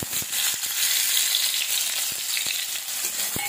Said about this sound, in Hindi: अब मैं इसमें ये 1 बारीक कटा हुआ प्याज डालूंगी।